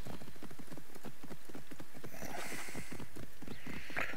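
Horse hooves clip-clop in a steady, rapid rhythm in the video game Assassin's Creed Origins, close and continuous, with a brief whinny near the end.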